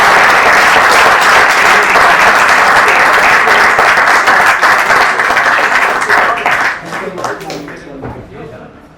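Loud, dense applause from a theatre audience at the close of a Hindi stage play, sustained for several seconds before thinning out and fading toward the end.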